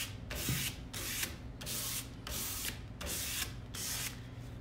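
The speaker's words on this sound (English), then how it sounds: "I'm just distressing just a little bit on some of the details" Sandpaper rubs back and forth over painted furniture to distress the edges, a soft rhythmic scratching in about seven even strokes, close and quiet with no talk.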